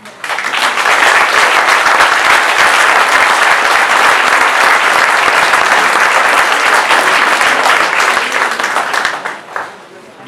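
A French municipal election public meeting audience in Le Beausset applauds children with sustained, dense applause that holds steady for about nine seconds before thinning out at the end.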